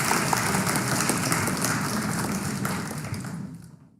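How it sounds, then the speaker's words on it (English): Sustained audience applause following a poetry reading at a live poetry event, a dense, even patter of many clapping hands that holds steady for several seconds and then fades out to silence. "Truly, we need an applause."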